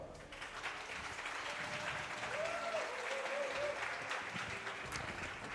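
Sustained audience applause at an esports event in Stara Zagora, a dense steady clapping wash welcoming player Solar, with crowd noise beneath.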